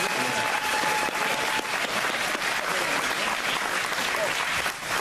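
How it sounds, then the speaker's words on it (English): A crowd at a town meeting applauds, steady dense clapping at full strength throughout, with faint voices and a few tonal sounds mixed in beneath. "We would like a round of applause for Richard Mack tonight."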